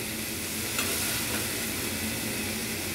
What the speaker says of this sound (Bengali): আমরা একটু সফট করে ভেজে নেব